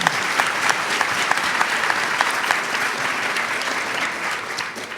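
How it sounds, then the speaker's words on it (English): An audience at a live talk-and-demonstration event applauds a presenter named Chris, with dense sustained clapping throughout that eases slightly toward the end. "Give Chris a round of applause."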